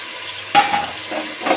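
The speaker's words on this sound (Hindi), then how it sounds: "चावल को अच्छी तरह से ऑयल में भून लूंगी।" Rice fries in oil in a pot as a short burst of sizzling with scraping stir strokes breaks out after a quiet moment, then returns in a couple more loud, close surges.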